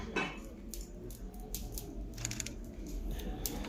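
Cooling, solidifying lava at the Lava Show gives off a faint, irregular crackling and crunchy ticking, scattered small snaps over a low steady background hum, with no talk.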